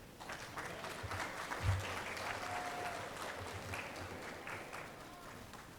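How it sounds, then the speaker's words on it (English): A conference audience at the University of Louisiana Monroe applauds as a panel walks onto the stage, producing a steady, fairly faint patter of clapping that holds evenly throughout. "let's give our social panel a warm round of applause as they take the stage"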